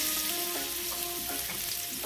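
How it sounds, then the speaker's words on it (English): Shrimp sizzle steadily in hot olive oil in a wok, a dense continuous frying hiss with faint stirring scrapes, close and loud. "I have some olive oil in my wok, and I'm going to add my shrimp, and I'm just going to cook the shrimp until they turn pink."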